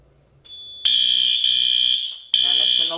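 A Notifier NFS2-640 fire alarm panel sets off its alarm after a magnet test, loud high-pitched electronic horn blasts sounding in repeated pulses with brief gaps, preceded by a quieter tone.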